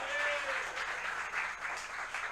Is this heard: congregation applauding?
yes